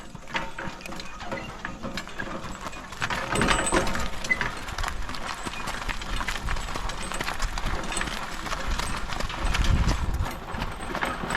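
A horse's hooves clip-clopping in a steady, busy rhythm of knocks and clatters, close and fairly loud throughout, with no talk.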